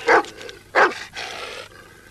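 Dogs bark in a French-dubbed film, two loud, close barks followed by a rougher, drawn-out growling bark.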